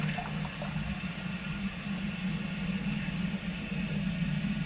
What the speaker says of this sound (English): Press the small flush button to activate the small flushing function.